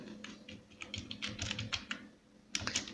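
Keys clatter on a computer keyboard as code is typed, a steady run of close, crisp keystrokes with brief pauses and a final quick burst, no talking.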